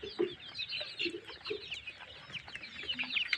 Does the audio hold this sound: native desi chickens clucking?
yes